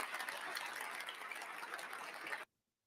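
Applause from inauguration footage: a faint, steady wash of crowd clapping that runs evenly for a few seconds and then cuts off abruptly.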